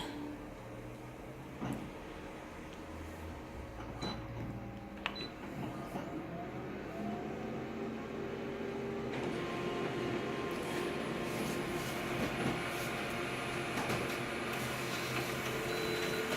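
A copier-scanner with its document feeder lowered runs a copy job, giving a steady mechanical whir with a few clicks and clunks early on, then a louder, fuller motor hum for the last half.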